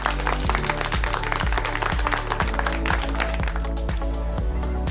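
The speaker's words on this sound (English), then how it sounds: "let's give ourselves an amazing clap" Steady clapping from a group, a continuous patter of hands with no pauses, heard over a rhythmic backing beat that thumps regularly underneath.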